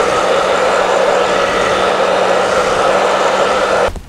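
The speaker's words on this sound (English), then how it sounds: "Then I'll take a blow dryer and set this in place." Handheld blow dryer setting teased hair for a Halloween costume look, a steady loud broadband whoosh running for about four seconds before cutting off abruptly.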